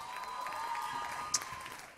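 An audience clapping at a live concert in a small venue, a steady patter of applause heard from a distance and fairly faint, with a few sharper claps standing out.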